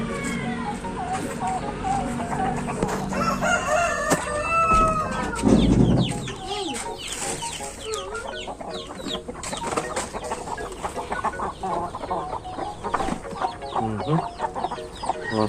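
Chinese and native chickens on a farm cluck and chatter continuously before feeding, with occasional rooster crows among the flock and someone talking intermittently over the noise.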